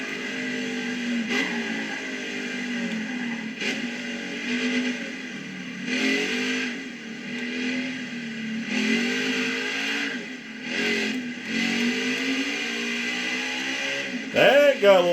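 NASCAR race car engine in NASCAR Heat 5, droning steadily at high revs with rising and falling pitch through gear shifts down a long straightaway, loud and continuous, with commentary talk over it.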